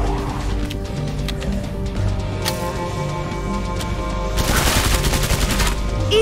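Rapid gunfire from Killing Floor 2 on Volter Manor, dense bursts and repeated shots over a busy game soundscape with music, the firing growing louder and harsher near the end.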